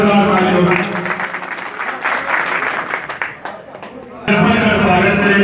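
Crowd claps at an Uttar Pradesh election rally welcoming a district general secretary, mixed with voices and a loudspeaker voice that fades midway before the applause and talk swell back loudly.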